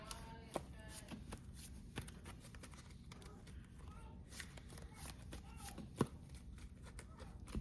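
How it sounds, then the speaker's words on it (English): A deck of trading cards is shuffled by hand, giving soft, quick riffling and patter with a few sharper taps, faint and close in a quiet room. "So we're going to shuffle a bit."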